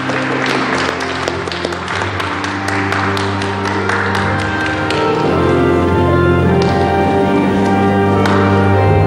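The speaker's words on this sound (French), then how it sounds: "On les applaudit. Et on applaudit les enfants aussi." A family Mass congregation in a parish church applauds the children, the dense clapping thickest at first and then thinning out as sustained instrumental music carries on beneath it.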